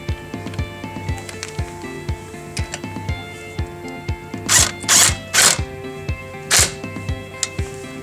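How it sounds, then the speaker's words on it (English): Impact gun running nuts onto a car's replacement control arm, several short loud whirring bursts near the middle and end of the stretch over quieter workshop clatter and ticking. "I'm going to gun these nuts on, but I'm not going to do them tight"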